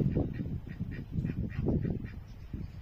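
Indian Runner ducks quack in a rapid series of raspy calls, several birds overlapping, close and fairly loud with no talk.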